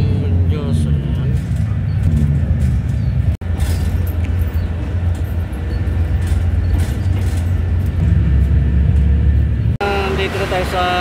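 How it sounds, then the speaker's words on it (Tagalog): Passenger seat aboard a moving city bus in traffic: a loud, steady low engine rumble and road roar fill the cabin, with rattles and faint background voices, broken by two brief cuts. "Nakasakay na tayo ng bus."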